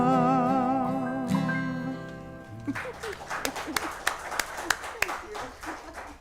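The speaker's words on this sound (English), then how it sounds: "Forgive me for applauding" Audience applause after a sung song, scattered claps rising as the held final notes of the music fade, with a voice speaking over the clapping.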